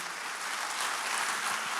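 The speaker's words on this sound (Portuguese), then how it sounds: "Dá uma salva de palmas ao Senhor" Church congregation applauding for the Lord, a dense even wash of many hands clapping together, steady and somewhat distant without any talk.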